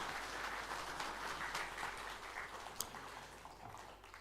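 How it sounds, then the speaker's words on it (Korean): Congregation in a Korean church applauding after an infant baptism during Sunday worship, a soft, continuous wash of clapping heard from a distance, with no talking. "우리 박수로 축복해 주시기를 바랍니다."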